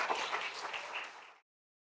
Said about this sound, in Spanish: Denle un aplauso gigantesco a Dios por eso.